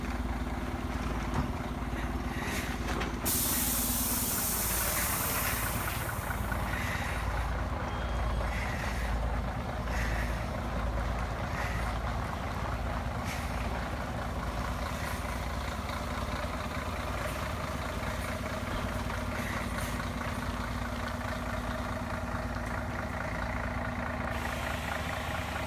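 A 14-metre coach bus manoeuvres into a village car park, its engine idling and rumbling steadily nearby, with a brief louder surge early on and faint reversing beeps and air-brake hiss mixed into the continuous drone.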